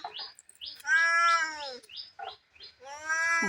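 A frightened cat stuck about thirty feet up a tree gives a series of loud, close, drawn-out meows, several in quick succession with short pauses between them.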